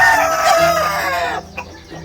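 A rooster crows loudly nearby amid clucking hens, the crow trailing off before a few quieter clucks close it out.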